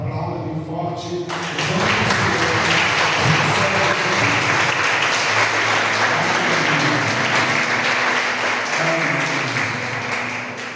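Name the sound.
church congregation applauding loudly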